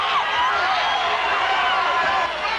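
Basketball crowd in a high school gym groaning and shouting in displeasure after a blocking foul call, a dense sustained wash of voices with a commentator talking over it.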